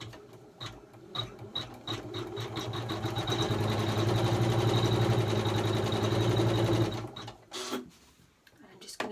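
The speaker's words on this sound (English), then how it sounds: "I'm now going to just stitch the design onto the fabric" A Janome 500e embroidery machine stitching a design onto fabric: a mechanical whir that ramps up into a steady, rapid needle clatter, then slows and stops with a few clicks, with a voice talking briefly.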